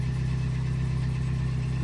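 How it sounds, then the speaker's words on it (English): A Mazda Miata's engine idles steadily while warming up, a close, continuous low rumble with an even, unchanging level and no talk over it. "right now I'm just letting the car get warmed up right now"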